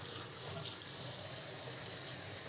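Water runs steadily from a bathroom sink faucet into a shallow basin, a continuous close hiss and splash with no pauses or voices.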